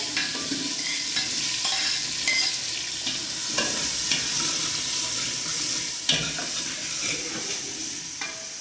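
Small shallots fry in a pan in a Jaffna village kitchen, a dense continuous sizzle with scattered crackles and the scrape of stirring throughout, with no voices.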